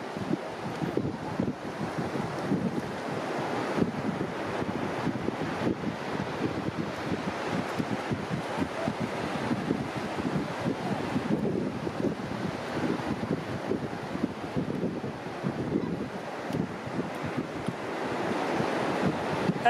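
Ocean surf on a beach at Ocean Isle rolls in as a continuous, fairly loud roar, with gusty wind buffeting the microphone the whole time and no voices.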